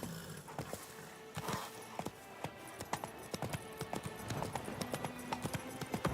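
Horse hooves clip-clop at a walking-to-trotting pace while riding in The Witcher 3 video game, a run of clear, close, irregular thuds over a soft ambient background with faint game sounds.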